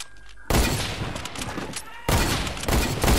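Sniper gunfire in a video game, loud sharp reports in two heavy bursts with a brief lull between, some voices in the background.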